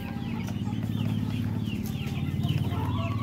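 Brahma chickens, buff mottled pile coloring, clucking steadily in a farm coop, a dense, continuous chorus of close, overlapping clucks with bird chirps faintly behind.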